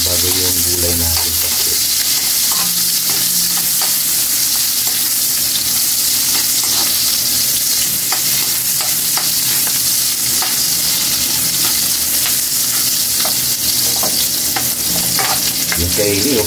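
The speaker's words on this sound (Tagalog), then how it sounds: "Golden brown yung bawang natin kaili dahil masyadong mainit yung mantika. Ilagay na natin yung sibuyas." Garlic and onions frying in very hot oil for pork pakbet, a loud, constant hissing sizzle with scraping stirs and crackles layered throughout, close to the pan.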